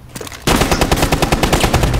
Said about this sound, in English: I can shoot him through the floor